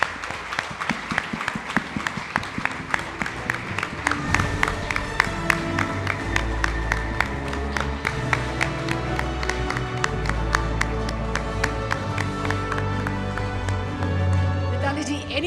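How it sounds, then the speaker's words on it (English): Crowd applause at a business leader awards ceremony as a cricketer comes on stage, many sharp claps under a steady rhythmic music beat, with some cheering mixed in. "A big round of applause for her."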